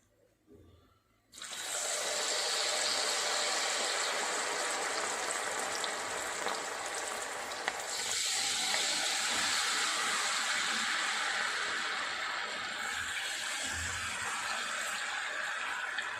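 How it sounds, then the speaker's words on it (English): Cauliflower (gobi) pieces going into hot oil for deep-frying, with a quiet moment and then a sudden loud, bubbling sizzle that stays steady and dense to the end, with no voices. "let them fry till it becomes golden brown"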